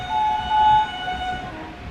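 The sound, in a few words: passing train hauled by WAP 7 electric locomotive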